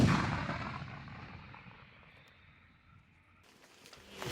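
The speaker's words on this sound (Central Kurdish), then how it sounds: "فەرمانی تەقاندنی دوو گول لە تۆپ بە ئاراستەی ئامانجەکە دەدات" A heavy blast from a Ukrainian artillery cannon firing at a frontline target opens loudly, then a long rumbling decay fades away before a second muffled boom swells at the end.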